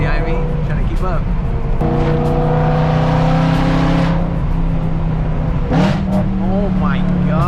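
A BMW E92 M3 with a V8 engine revs loudly from the cabin, its tone climbing and falling sharply through several downshifts, and a voice speaks over the engine.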